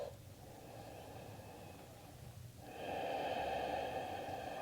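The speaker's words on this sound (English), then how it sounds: "Take one more full breath." A deep, full breath during a yoga session, a soft airy inhale that swells into a louder, longer exhale through the nose, close and quiet with no talking.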